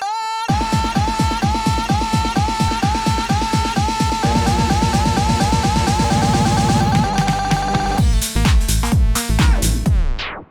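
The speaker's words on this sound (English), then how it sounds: "when we see a DJ using the loop technique, usually it sounds like this" A DJ loops a short electronic music phrase over and over, loud and steady, ending in a rapid stuttering burst before cutting off.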